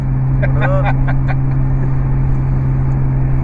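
A 1998 Subaru Legacy GT with a swapped 3-liter flat-six from a 2001–2004 Outback drives along, its engine a steady loud low drone heard from inside the cabin while people talk.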